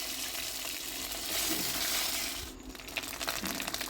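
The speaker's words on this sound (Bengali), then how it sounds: "1 চামচ আদা বাটা আর 1 চামচ জিরে বাটা দিয়ে ভালো করে আমি নেড়ে দেবো।" Ginger and cumin paste stirred in a frying pan while cooking a vegetarian banana-flower and rice dish, with a steady sizzle and soft scraping of the spoon throughout, close and moderately loud, no voices.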